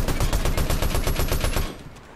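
Rapid automatic gunfire in Fortnite rattles in a fast, even burst of shots for about a second and a half, loud and close, then cuts off.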